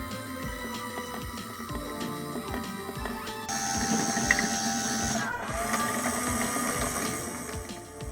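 A small gear-driven motor turns a homemade Jobo CPE 2 film developer, giving a steady whirring, buzzing mechanical drone with a rhythmic clatter that grows slightly louder partway through.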